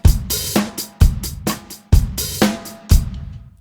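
Drum kit groove with open hi-hats played at a faster tempo, with repeated sharp kick and snare hits and bright sustained cymbal washes in a steady pattern, close and alone, fading out at the end.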